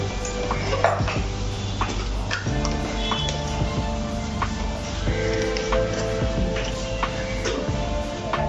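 Spice stuffing for stuffed mirchi bhajji, with turmeric, asafoetida and salt, being stirred in a bowl, giving repeated clinks and scrapes of a utensil against the dish over steady background hum.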